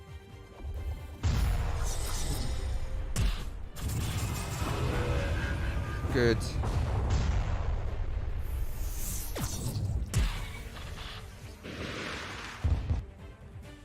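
A Doom Cannon fires in the space strategy game Halcyon 6, heavy crashing blasts and whooshing impacts layered over a continuous game soundtrack, loud and dense, with a brief spoken word over the top.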